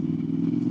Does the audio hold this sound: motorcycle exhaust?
yes